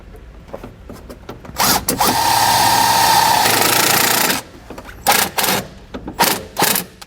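Power driver running a self-tapping screw with an 8mm socket into flimsy interior paneling of a 2015 Chevrolet: a loud, steady whirring drive lasting a few seconds, followed by several short bursts of the tool.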